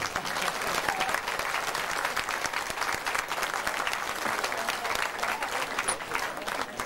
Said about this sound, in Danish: Og så kan I få lov at klappe.